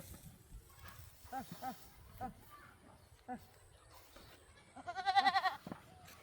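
A goat gives one loud, close bleat near the end, after a stretch of quiet talk with brief softer sounds.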